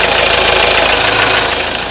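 A SsangYong Tivoli 1.6 diesel engine idles with the engine cover closed, a steady close clattering diesel hum that stays even throughout.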